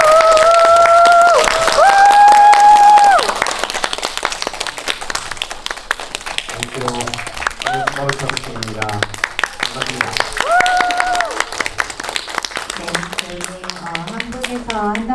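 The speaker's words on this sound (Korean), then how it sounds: "큰 박수로 그리고 큰 환호로 맞이해 주시면 좋을 것 같습니다" At a stage greeting for actor Satoshi Tsumabuki at Lotte Cinema Gimpo Airport, a cinema audience keeps up dense clapping and cheering, with electronic tones early on and a voice speaking over the applause.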